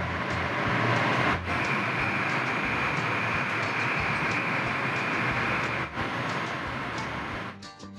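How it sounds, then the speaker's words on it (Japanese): An Akita Shinkansen Komachi train rushes through Yotsuya station with a loud, continuous rumbling roar and rail hiss that holds steady for several seconds with no speech. "四ツ谷駅で秋田新幹線小町の通過待ちをしています。"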